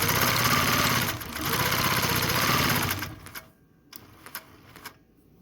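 A Handiquilter Fusion longarm quilting machine stitches with couching, a fast steady mechanical whir for about three seconds before it stops, leaving a few light clicks and knocks.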